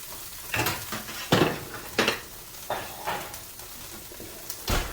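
Plates and cookware clatter in a home kitchen as beef patties on a plate are set into a warm, preheated oven, with several sharp clinks and knocks spaced irregularly and a soft sizzle underneath.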